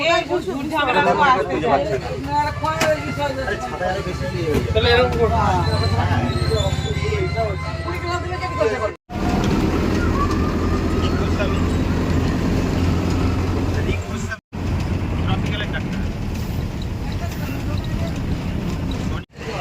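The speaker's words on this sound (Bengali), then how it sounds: "বাসে উঠে পড়েছি।" A low, constant engine rumble and road noise fill the ride inside a bus on a rainy day, while people talk close by over the drone, with a couple of brief breaks in the sound.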